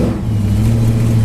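A nearby car engine hums and slightly revs as traffic moves past a parked 1955 Chevrolet Bel Air hardtop, a loud continuous low rumble heard on its own.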